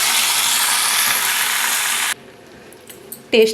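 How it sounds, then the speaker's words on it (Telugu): A tempering of curry leaves fried in oil, poured into a pot of sambar: a loud, dense sizzle for about two seconds that cuts off suddenly, followed by quieter clinks and a brief, louder knock near the end. "పోపు సాంబార్లో వేసేస్తాం."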